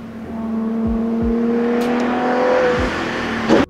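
A Ferrari F12 TDF with a 780-horsepower V12 engine runs steadily with a smooth whirring drone, rising gently in pitch, and a brief sharper burst near the end.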